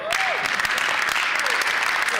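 Sustained applause fills a legislative chamber, many hands clapping steadily and close with a voice talking over it.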